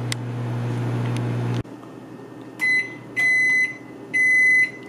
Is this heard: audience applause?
no